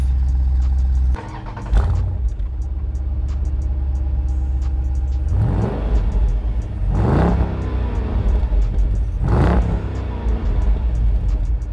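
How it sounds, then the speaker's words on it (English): A 6.4-liter Hemi V8 in a 2021 Jeep Grand Cherokee SRT already running with a deep rumbling idle, blipped by three sharp revs that climb and fall, loud and close. "you fire it up, you're gonna give it a second, and this V8 Hemi comes to life"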